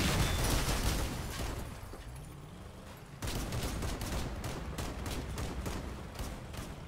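Vehicle-mounted guns in the Crossout combat game fire in rapid, dense volleys, with a busy noisy battle din throughout and a fresh burst of repeated shots kicking in partway through.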